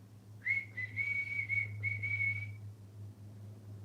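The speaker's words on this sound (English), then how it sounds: "That almost sounds like a Christmas whistle." A cockatoo whistles a short, steady Christmas-like melody over a low constant hum, lasting about two seconds before falling quiet.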